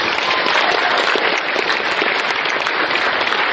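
An anime convention audience gives sustained applause for the companies that donated auction items: a dense, even roar of many hands clapping at once, loud and unbroken throughout.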